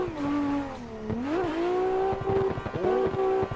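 A 2JZ-engined 180SX in a driving video game revs and climbs through the gears as it slides sideways through mountain roads, a loud engine note rising and dipping with quick throttle blips, no voices.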